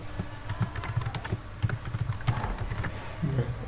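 Fingers type quickly on a computer keyboard nearby, a dense, irregular run of light clicking keystrokes with brief pauses, heard alone without talking.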